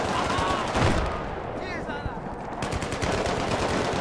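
Automatic weapon fire in the video game Battlefield 3, bursts of rapid shots at moderate distance with a brief lull in the middle, under a voice talking.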